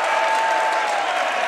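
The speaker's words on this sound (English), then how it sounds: "And the crowd's loving it" A wrestling crowd at an NC State home dual meet applauds a win, loud dense clapping and cheering that stays steady throughout.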